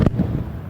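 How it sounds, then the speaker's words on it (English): A building blows apart in an intentional explosion in an open field near Lubbock, Texas, during a blast-resistant glass test: a sharp, loud bang followed by a deep rumbling roar that fades quickly. "The purpose of this intentional explosion to test blast-resistant glass"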